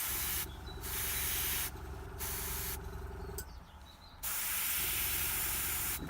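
An airbrush sprays paint in short hissing bursts with the compressor pressure set too high, steady close spray broken by brief gaps, no talking.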